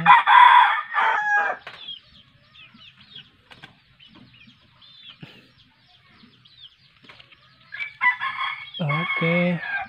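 Backyard chickens cluck in the foreground while a rooster crows loudly near the start and again toward the end, with quieter scratching and clucks in between.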